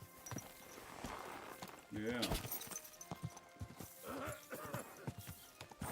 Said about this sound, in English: I'm calling my horse.